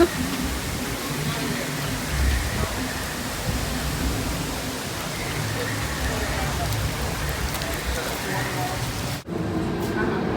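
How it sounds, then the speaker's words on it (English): Heavy rain pours at Disney's Animal Kingdom, heard from under a shelter, in a thick, continuous hiss that cuts off briefly near the end before resuming. "really raining under here."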